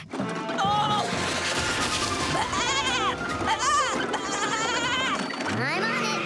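Cartoon goats bleat in bursts while hauling a runaway cart out of control, with crashing and clattering mixed in under excited children's voices talking and shouting throughout.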